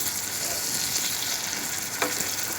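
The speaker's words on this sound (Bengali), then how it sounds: "এখন একটু ভালো করে কষাই নেব" Surma fish curry with tomato juice sizzles and fries steadily in a pan, a continuous close hiss with a brief stirring scrape near the end.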